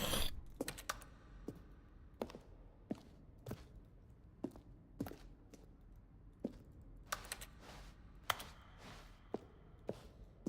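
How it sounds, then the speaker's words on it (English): Button presses from the video game The Stanley Parable, each a keyboard stroke mixed with a synthesized tone. Sharp, separate clicks sound one after another at an uneven pace, about a dozen in all, over a quiet background. "A selection of button sounds throughout the game when buttons are pressed. Each sound is a mix of keyboard stroke and synthesized tone."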